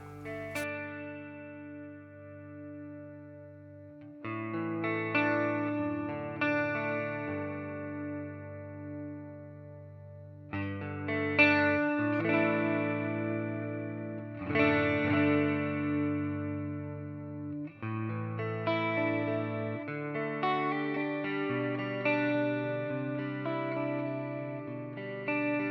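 A Harley Benton DNAFXGit guitar modeler plays distorted electric guitar tones, with sustained chords and picked notes ringing out in separate phrases, broken by brief pauses, loud and close with no talking.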